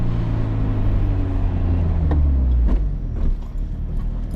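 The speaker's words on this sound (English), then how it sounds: "Oh my God, this car is loud." A loud car drives along a road, its engine and road rumble filling the cabin in a heavy, steady drone, with a few thumps and shifts toward the end.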